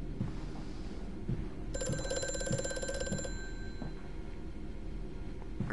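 A telephone rings inside the video game Amnesia: A Machine for Pigs, a bright rapid trilling bell lasting about a second and a half over a low, murky ambient drone.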